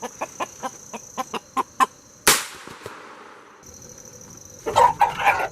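Rhode Island Red rooster clucking nearby in a quick series of short, evenly spaced clucks, then a sharp squawk, a pause and a final burst of agitated clucking.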